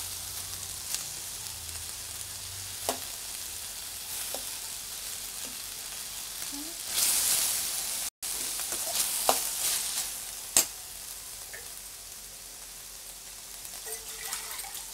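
Andhra-style green chilli chayote squash curry sizzles in a pan after ground paste goes in: a low, steady sizzle with scattered clicks and one louder rush of hiss midway, and no voices.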